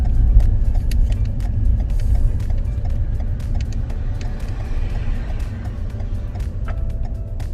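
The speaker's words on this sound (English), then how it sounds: "I would like you to pull up or park the car on the left, please." A car on a London driving-test route around Enfield slows and pulls over to park at the left kerb, heard from inside the cabin as a continuous low engine and road rumble with faint mechanical clicks.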